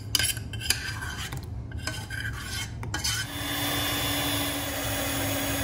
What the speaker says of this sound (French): Et nous allons mélanger les deux préparations.